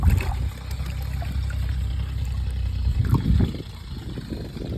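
Water runs steadily into a pigeon water trough, a close, continuous watery rush and trickle that swells briefly near the end before settling.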